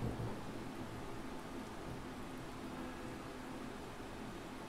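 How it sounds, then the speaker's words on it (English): Rain in a song comes across as a continuous soft hiss of falling rain, steady and fairly faint with a low rumbling undertone throughout. "as you hear the bell, the rain"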